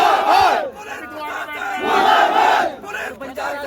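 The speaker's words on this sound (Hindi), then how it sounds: "और ये भीड़ का आक्रोश दिखाई दे रहा है" A large Banjara community crowd protesting outside a police station in Biharigarh shouts angrily in loud, surging waves of massed voices, rising and falling across the stretch with no single speaker standing out.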